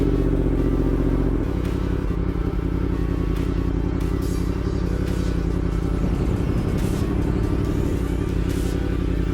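A motorcycle riding slow tight laps of a circle roughly 18 to 20 feet across, its engine droning steadily and close with a low rumble and slight shifts in pitch as the throttle changes.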